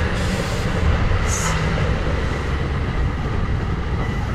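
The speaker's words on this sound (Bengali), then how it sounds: "এটা একটা দোতলা ট্রেন," Close and loud, a double-decker local commuter train from New York City rushes past with a dense, continuous roar of wheels and cars, with a brief high squeal partway through.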